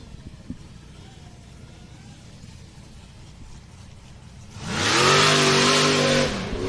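A wide-open design off-road bouncer buggy with an LSA supercharged engine sits idling low before revving hard into a loud, rising roar that holds for a couple of seconds at a hot springs off-road racing event.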